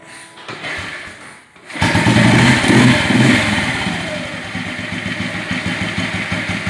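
Old Bullet motorcycle with point and CD electronic ignition, its engine catching after an electronic start and settling into a loud, close, steady thumping idle.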